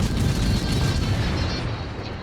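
Rapid naval gunfire from a warship video game, shells hammering the superstructure of the battleship Ohio as a dense, continuous roar of overlapping booms with no clear gaps.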